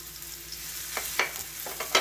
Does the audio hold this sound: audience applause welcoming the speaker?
no